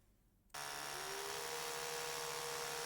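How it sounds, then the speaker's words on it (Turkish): A power drill bores into a wall in the video game Low Budget Repairs, starting abruptly after a quiet moment and then whirring loudly and steadily at a constant pitch. "Buraya hemen bir matkapla girelim."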